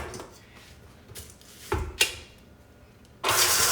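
Electric mixer pulsing a cornflake cookie mixture, a few short whirring bursts with a louder sustained run at the end, close and alone without talk.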